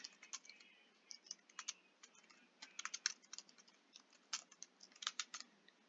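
Quiet, close keyboard typing in irregular bursts of rapid clicks with short pauses between them.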